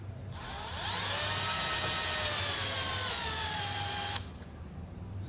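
A drill bit boring into a metal trunnion on a Draco pistol brace install, a steady loud high-pitched whine holding for about four seconds and then cutting off abruptly, with no talking.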